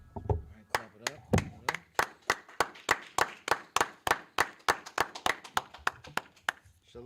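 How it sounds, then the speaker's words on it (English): An audience claps in a steady, evenly spaced rhythm of about twenty sharp beats, fairly close and moderately loud with a slight room echo. "Alright, clap it up."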